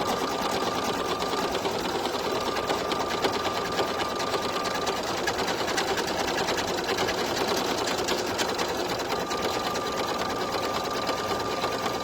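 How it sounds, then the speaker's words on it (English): An embroidery sewing machine stitches fast with a dense, steady rapid chatter, close and continuous throughout, with no voices. "I'm a little nervous too because I never stitch this fast."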